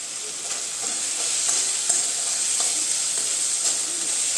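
Cabbage fries in an open pan with the lid off, giving a steady, even hiss at close range with faint crackles and no voices.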